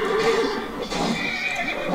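A horse whinnies loudly and close by, one long, wavering neigh that rises and falls over about two seconds, with no voices.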